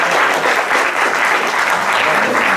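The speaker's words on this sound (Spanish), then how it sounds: "Un aplauso para él" Loud, close applause from an audience at a science and technology talk on radiation protection, dense and steady throughout the short burst.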